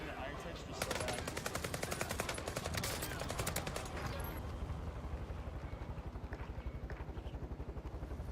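Rapid bursts of light machine gun fire in a battle royale video game, sustained rattling volleys, some dense and some more spaced, with fainter game sounds underneath.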